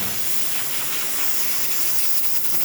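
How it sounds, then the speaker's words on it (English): Loud, continuous hiss of an Isomac espresso machine steam wand, close up and unbroken. "As you can see, the machine is definitely steaming, getting hot."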